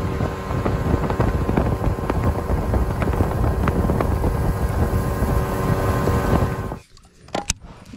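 A small boat's motor drones steadily and loudly with wind buffeting on the Arkansas River for most of the clip, then cuts off abruptly, leaving quiet with a few faint knocks.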